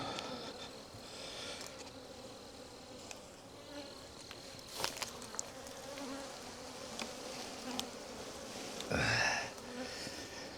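Bees buzz inside a crowded hive that may be about to swarm, a continuous low drone with a few louder bees zipping close past, including one sharp near pass toward the end.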